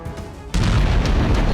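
A massive explosion in Beirut during the Israel–Lebanon conflict hits with a sudden loud boom, then a heavy, sustained roar and rumble that fills the rest of the moment, with no voices.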